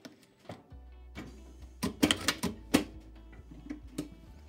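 A sewing machine backstitches to lock a seam on a 1950s-style skirt, producing a short run of uneven mechanical clacks and thumps, close and fairly quiet, with a few louder bursts in the middle.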